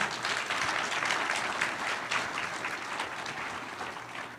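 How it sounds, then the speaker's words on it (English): A church congregation applauds a group called House 3 during a Sunday service, a soft, even wash of clapping from a large crowd, steady and moderately distant, easing slightly toward the end. "One last round of applause for House 3."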